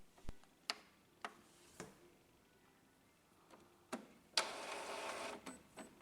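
An Epson XP-2100 inkjet printer starts up after power on with a sparse series of sharp mechanical clicks and ticks, then a short whirring motor run, quiet and close in a silent room.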